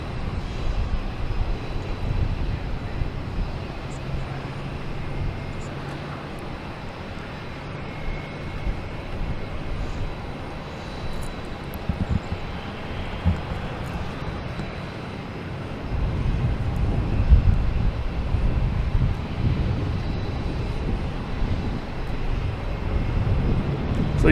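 A Delta Embraer E175 jet at Boston Logan Airport gives a low, distant engine rumble that swells louder toward the end, with steady airport ambience around it.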